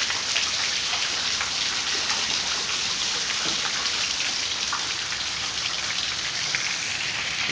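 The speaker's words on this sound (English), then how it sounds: "it's raining." Rain falls outdoors in a steady, even hiss of drops pattering on surfaces, continuous and moderately loud throughout with no voices over it.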